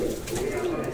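Pigeons kept by a breeder coo in a brief, low, throaty burst close by.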